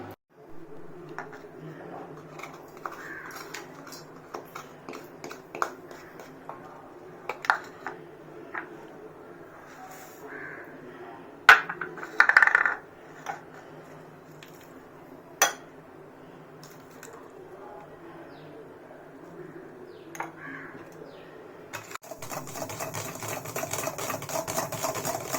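Spoon whisking dalgona coffee mixture of instant coffee, sugar and hot water in a bowl, a soft steady scraping with occasional sharper clinks against the bowl, ending in a burst of broader noise.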